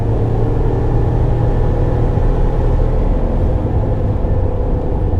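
Inside the cab of a 2020 Chevy Black Widow truck as it accelerates on the road, a steady, loud, low engine and road rumble fills the cabin with little change in pitch and no talking.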